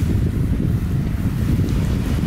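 Strong wind on open water at the beach, a continuous low rumbling buffet with gusty fluctuation, loud and close throughout, with no voices.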